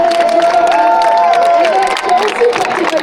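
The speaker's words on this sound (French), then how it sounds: "On applaudit encore notre formation." A large crowd claps and cheers loudly and continuously for a team, here the Cofidis squad, at the 2025 Tour de France team presentation, with a sustained dense roar and voices and tones mixed in.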